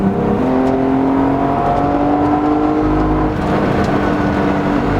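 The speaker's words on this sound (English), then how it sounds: "This car is making some happy noises right now." A loud Mercedes C36 AMG with a swapped Cosworth engine hums and revs steadily, its tone rising and falling slightly, close and continuous with no voices.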